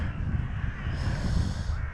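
Crows caw repeatedly over a steady low outdoor rumble, the calls overlapping and fairly close, continuing throughout.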